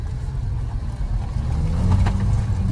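Cabin of a Skoda Fabia Monte Carlo with a 150 PS engine, DSG gearbox and 18-inch wheels on the move: a steady low rumble of engine and road noise, fairly even, with no talking.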